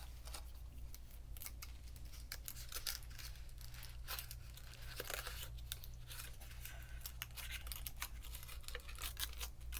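A foil-wrapped candy egg from a Japanese candy kit is unwrapped up close, with crisp, irregular crinkles and tearing crackles over a steady low hum, continuing throughout without talking.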